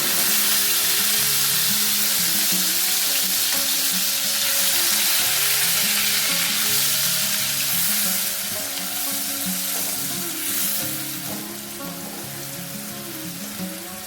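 Onion paste fries in hot oil with cumin, cinnamon and cardamom, giving a close, crackling sizzle that runs steadily throughout with occasional stirring, slowly easing toward the end, and no talk.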